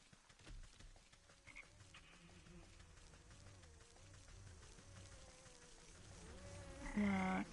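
Frogs croak in a fantasy crafting game, a steady pulsing chorus of low calls under soft game music and ambience, ending with a brighter chime-like effect.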